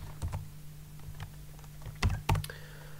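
A password typed on a computer keyboard: a short run of soft key taps, then two louder, distinct keystrokes close together near the end, with a faint steady hum beneath.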